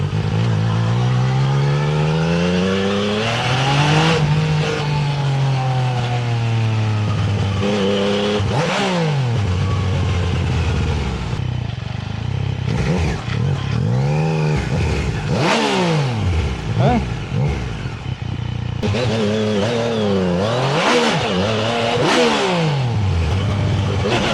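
Yamaha Tracer 900 motorcycle on a road ride between Isparta and Keçiborlu, its engine revving hard through repeated full-throttle pulls with rising and falling pitch sweeps, loud and close amid wind noise, with a voice talking briefly.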